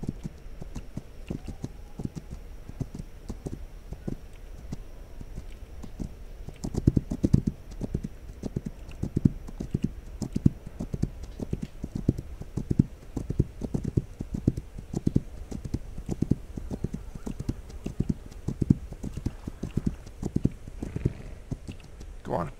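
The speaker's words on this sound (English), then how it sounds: "Grabbing this horse and going back to the horses." Horse hooves clip-clopping in a video game about hunting camps, a steady run of close, even hoof clops lasting through the whole stretch, faint in the opening seconds and denser later, with occasional clicks alongside.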